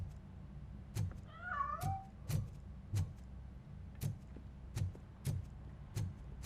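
Cat in the video game RoboCop Rogue City giving one quick wavering meow amid a steady series of sharp, evenly spaced knocks or footfalls.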